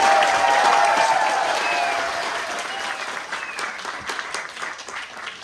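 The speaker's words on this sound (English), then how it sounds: "if you can give a big round of applause for LaZeR" A fan meetup crowd at the Bluebell Railway breaks into full applause for a guest. The thick clapping gradually thins and fades, leaving scattered individual claps near the end.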